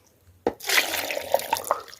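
Water pours into a container for homemade avocado juice, a splashing, gurgling stream that starts abruptly and runs steadily with small bubbling peaks, close and fairly loud.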